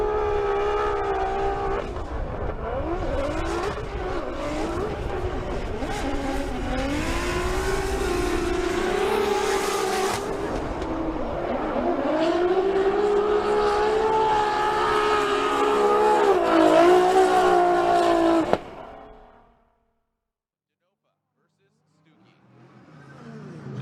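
A high-horsepower Formula Drift car, a BC Racing Mustang RTR Spec 5D, roars through a drift battle with its engine revving and wavering, under continuous commentary. The sound then cuts off sharply to near silence.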